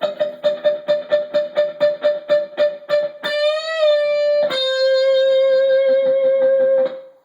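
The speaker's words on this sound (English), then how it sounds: "I'm going to palm mute pretty heavily." A run of short, heavily palm-muted electric guitar notes in a steady rhythm, each one damped quickly, then a couple of notes left to ring out and sustain.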